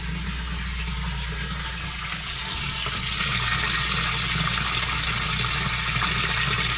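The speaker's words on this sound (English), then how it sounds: "So it's filling up the first barrel right now." Water pours steadily into the first barrel of a homemade three-barrel koi pond filter, a loud, continuous rushing fill with a low hum beneath and no talking.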